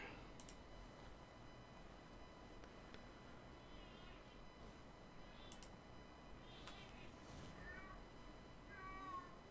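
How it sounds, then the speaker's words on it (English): A vocal house cat gives a few short, faint meows in a quiet room, scattered among light clicking and ticking sounds, with no voices. "Yep, the cat's talking to herself."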